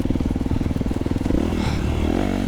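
A 2025 Honda CRF250R Works Edition dirt bike riding mountain single track, its engine loud and close with a steady rapid pulsing note that rises slightly in revs.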